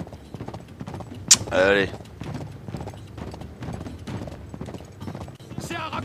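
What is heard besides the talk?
horse hooves galloping in video game Uncharted 3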